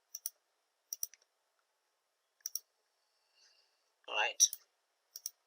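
Computer mouse clicking in pairs of sharp, close clicks spaced across the stretch, with a brief spoken word between them.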